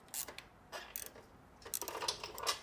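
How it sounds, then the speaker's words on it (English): A bolt is run in with a ratchet to pull down the AC compressor during final assembly of a Ferrari F355 engine, giving short, close bursts of quiet mechanical clicking and ratcheting with pauses between. "So we're going to start running this bolt in, which is going to pull our AC compressor down."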